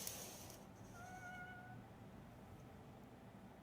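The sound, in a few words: cat meowing at front door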